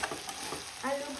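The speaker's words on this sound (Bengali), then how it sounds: "আলু ভাজা করবো।" Potatoes fry in a pan while being stirred: a close hiss of sizzling oil broken by short scraping stirs over about a second.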